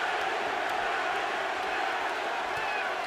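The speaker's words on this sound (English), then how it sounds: "Crowd begins to chant, Pavlik, Pavlik, Pavlik." A large arena crowd at a Jermain Taylor vs Kelly Pavlik boxing match roars and chants in unison, a loud continuous wall of voices with rhythmic pulses.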